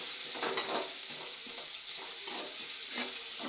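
Onions frying in a pan, a steady soft sizzle with faint periodic scraping strokes of a stirring spoon.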